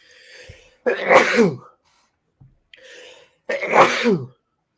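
Two separate sneezes about three seconds apart, each a sharp explosive burst preceded by a faint inhaled lead-in, close to the microphone with silence between.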